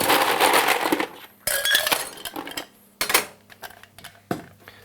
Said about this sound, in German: ich brauche meinen Rührbecher, befülle den mit Eis